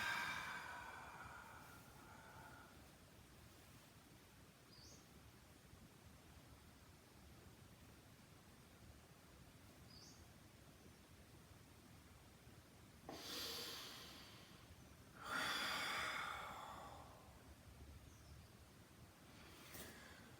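A few slow, breathy exhales during a breathing exercise stand out against a faint, steady hiss, with two louder airy breaths near the end.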